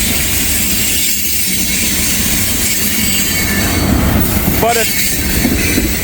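Freight train of coal and mixed manifest cars rumbling past close by, a loud continuous roll of wheels on rail with a brief wheel squeal and clicking joints, and a voice speaking briefly over it.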